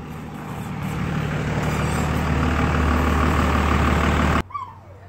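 A Cummins diesel engine in a pickup truck runs close by with a steady, loud low rumble and idle drone for about four seconds, then cuts off abruptly, leaving brief faint noises.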